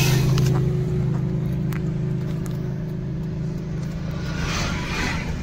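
A car engine held at low revs uphill during a clutch control driving lesson, a steady close rumbling drone with slight throttle rises and vibration.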